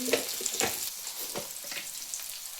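Asafoetida and chili powder fry in hot oil with a constant close crackling sizzle and a few brief stirring scrapes, and nobody speaks.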